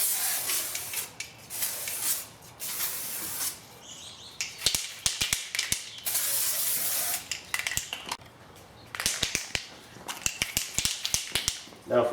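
Aerosol can of Volvo LifePaint reflective spray hissing in several separate bursts, close and fairly loud, with the can's rattle and clicks of the nozzle between sprays.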